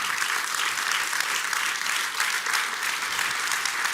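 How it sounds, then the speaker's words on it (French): Steady, dense audience applause fills the room for François at a talk event, continuous and fairly loud with no voice above it. "Un grand applaudissement pour François."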